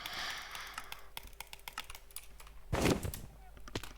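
Computer keyboard keys clatter in quick, irregular clicks while a Craftrise (Minecraft server) game is played, with a louder burst of rapid presses near the end and faint talk in the background.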